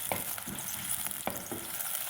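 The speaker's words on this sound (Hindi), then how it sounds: "1-2 मिनट हमने इसको फ्राई कर लिया है" Onions fry in a pan with a continuous soft sizzle, broken by several scraping stir strokes at an irregular pace, close and fairly quiet with no voices.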